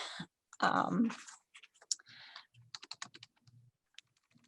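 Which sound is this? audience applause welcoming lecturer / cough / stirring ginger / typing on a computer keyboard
typing on a computer keyboard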